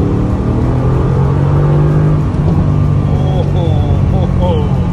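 A 2019 Mercedes-AMG GT C Roadster accelerating, heard from inside as a loud, steady engine drone and rumble, with voices exclaiming over it.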